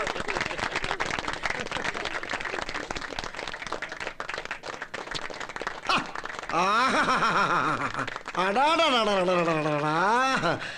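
Sustained applause from wedding guests for the bride's father, dense and continuous, giving way to long wavering whistles that rise and fall over the clapping.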